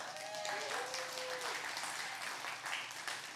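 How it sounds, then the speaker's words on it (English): Audience applause in a church, a steady wash of clapping from a congregation that fills the whole clip, with faint voice-like tones briefly audible early on. "Can you clap for Ashley?"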